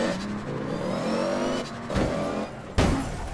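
Vehicle engine in the game APB Reloaded, revving and accelerating steadily with rising pitch, loud and continuous, with a couple of abrupt bursts near the end.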